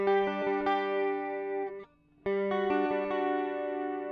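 An electric guitar runs through a TC Helicon VoiceLive 3 effects unit, ringing out sustained, shimmering chords with bright overtones, pausing briefly before another strummed chord rings on alone.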